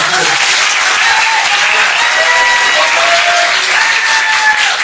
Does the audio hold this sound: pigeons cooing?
no